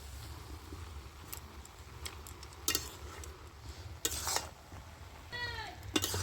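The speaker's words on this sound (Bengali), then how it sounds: "এবারে আমি কপিটা উল্টি পাল্টিয়ে দিচ্ছি।" A cabbage, potato and carrot curry with tomato, turned over and stirred in a pan: a soft continuous sizzle with scattered scraping clinks of a spatula against the pan, fairly quiet and close.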